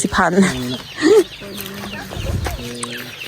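Chickens cluck and call on a farm in short bursts of varying pitch, with people talking nearby and a low rustle underneath.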